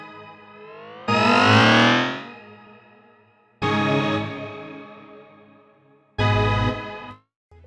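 Three loud bursts of a distorted, harmonically rich instrumental tone run through a doubler delay with a Haas-style stereo spread and feedback, each burst swelling then trailing into repeating echoes, with short gaps between them and no voices.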